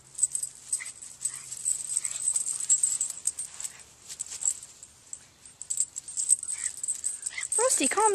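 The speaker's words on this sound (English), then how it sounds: "this is what it's like to walk 3 dogs at the same time." Three miniature pinschers whimper and whine in short high bursts on a walk, with jingling tags and rustling near and clear, ending in a rising yelp.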